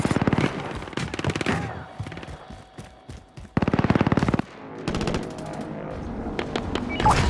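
Gunfire in the video game Call of Duty: Modern Warfare, with loud bursts of rapid automatic fire separated by quieter gaps of scattered single shots and background battle noise.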